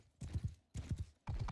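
A horse's hooves clip-clop in Mount and Blade 2 Bannerlord, three quick double-beat groups of hoofbeats, close and fairly soft.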